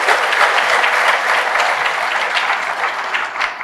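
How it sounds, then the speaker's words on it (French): Loud, dense audience applause at a youth employment forum in Senegal, sustained and even with many hands clapping close together, no voices over it. "Je voudrais vous demander de l'applaudir de ma part"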